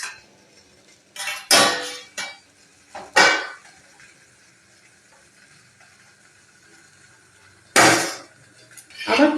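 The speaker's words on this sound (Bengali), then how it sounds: "মোমো রেডি হয়ে গেছে, এবার এই মোমোগুলো আমি ঢেলে নিচ্ছি।" Steamed vegetable momos tip out of a steamer onto a dish in a few soft clattering bursts of utensil and plate contact, separated by quiet gaps, close by with no talk.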